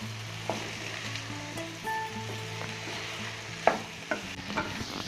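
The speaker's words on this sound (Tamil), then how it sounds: "நல்லா ஃப்ரை பண்ணுவோம்." Okra (ladies finger) frying in a pan, with a steady sizzle underneath and intermittent scraping strokes of a spoon stirring the pieces; no talking.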